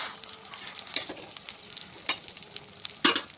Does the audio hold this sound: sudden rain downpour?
no